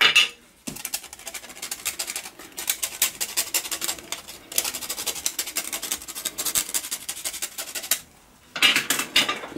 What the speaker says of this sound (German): Und noch ein ganz klein wenig Muskat drüber anreiben.